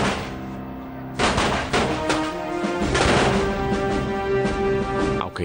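Volleys of musket fire and cannon crack and boom through a Napoleonic battle between French and Anglo-Portuguese forces. The shots come loud and dense over a continuous roar, with a sustained musical tone running beneath them.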